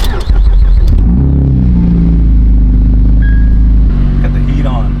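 Boosted Acura TL-S engine cranks and fires with a short burst, then settles into a loud, steady idle hum heard from inside the car, with a person talking over it.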